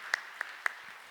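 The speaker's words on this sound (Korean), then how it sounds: "그 높으신 하나님께 감사와 큰 영광의 박수 올리겠습니다" Sparse, faint handclaps from a church congregation during a Sunday service, three distinct claps spaced apart over quiet room tone.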